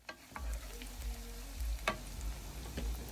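Onion frying for a garden-egg stew base, a steady low sizzle across the whole stretch with a few sharp stirring clicks and scrapes of the spoon, heard up close with no talking.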